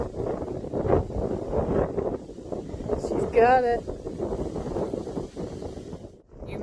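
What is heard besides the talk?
strong wind at the beach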